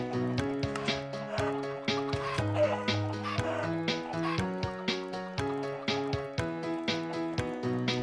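Chickens in a Minecraft automatic chicken farm clucking nonstop, many overlapping short clucks in a busy steady rhythm, close and loud, with no talking.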